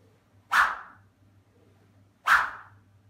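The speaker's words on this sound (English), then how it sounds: "You can hear that whip coming through." Two sharp whooshes cut the air about two seconds apart as a golf club is swung fast, each a quick rising swish that fades off, with near silence between.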